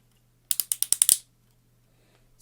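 Ratcheting joints on a Metal Cardbot S Cielo transforming robot toy figure click through a bicep swivel: seven quick, sharp clicks in about half a second, close and crisp, then silence.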